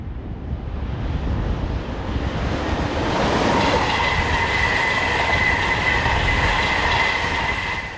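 A Freightliner Class 70 diesel locomotive, 70-008, hauls a freight train along the slow line of a British main line as an express passes. A loud, steady rumble of wheels runs throughout, with squealing wheel tones and rhythmic rail clatter building midway.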